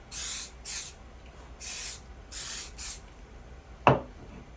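Accelerator spray for a pumpkin carving craft comes in five short aerosol bursts in quick succession, close and moderately loud, followed by a single sharp click.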